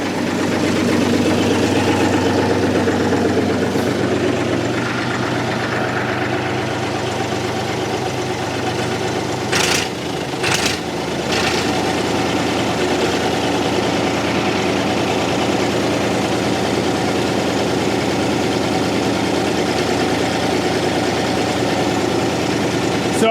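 A Massey Ferguson tractor engine, revived after 30 years, runs at a steady loud idle with a rough, knocking low rumble, broken briefly by a couple of sharp clanks midway.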